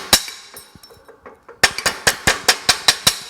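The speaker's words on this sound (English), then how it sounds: "I just take a hammer, pound it down, reshape it" A hand hammer pounding a crushed part from a Ski-Doo 700 mod snowmobile back into shape. Sharp metallic strikes come in a loose cluster, pause briefly, then fall in a quick, evenly spaced run of about ten close, loud blows.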